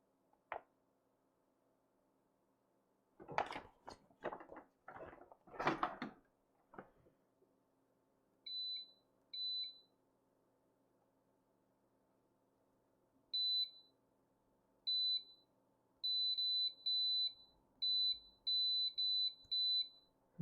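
An ATEZR L2 laser engraver emits short, sharp electronic beeps, first in a pair and then in a rapid irregular series, clear against a quiet room after some brief handling noises.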